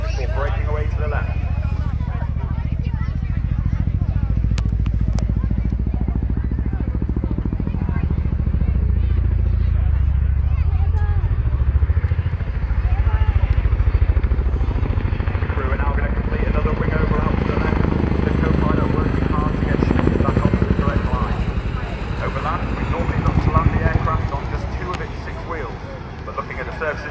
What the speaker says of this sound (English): The aircraft is now running back in towards you on the beach with its nose low, accelerating towards you before breaking away to the left.